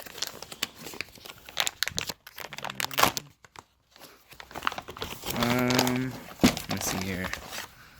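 A swag bag from a car parts kit is opened and rummaged through, bursts of crinkling and rustling plastic close by, interleaved with someone talking.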